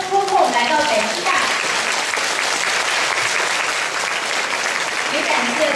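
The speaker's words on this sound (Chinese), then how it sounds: "让以热烈的掌声感谢沈志华老师在百忙之中抽空来到北师大" Warm applause from a lecture audience at Beijing Normal University thanks the lecturer, a dense steady clapping that fills the room throughout, with a voice briefly heard over it at the start.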